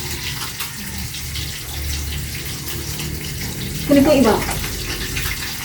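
Tap water runs steadily into a sink in a home kitchen, a continuous close splashing rush with a brief louder gush partway through, while someone speaks briefly over it.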